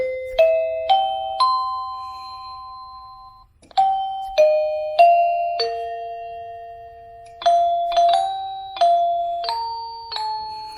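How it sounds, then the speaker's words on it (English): A Eufy video doorbell chime plays one ringtone after another, each a clear electronic ding-dong or short melody of decaying tones, close and loud with short gaps between. "So you can just press that, and it'll cycle through the available ringtones."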